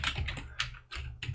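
A computer keyboard is typed on close by in a quick, uneven burst of several sharp key clacks.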